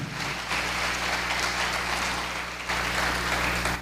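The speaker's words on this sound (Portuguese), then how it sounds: "Irmãos, pode aplaudir Jesus por isso." A church congregation applauds together in a dense, steady roar of clapping that stays loud and even for the whole stretch, with no voices over it.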